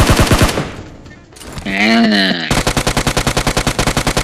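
Rapid automatic gunfire from PUBG Mobile rattles in fast, loud bursts, pausing briefly while someone speaks, then resuming as a steady stream of shots.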